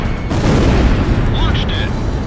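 A missile fires from a jet fighter in Ace Combat Zero with a deep rumbling whoosh, loud and close, while a short synthetic beeping tone sounds briefly near the end.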